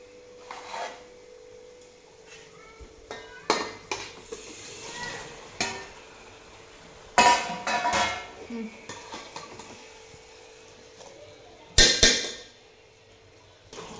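Fish being added to a cooking pan and stirred in, giving a run of scattered metallic clinks, scrapes and short clatters of a spoon against the pan, with quiet pauses in between.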